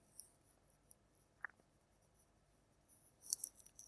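Faint marker strokes on a board come as a few soft scratchy taps spaced apart, then a brief cluster of squeaky strokes near the end, in a quiet room.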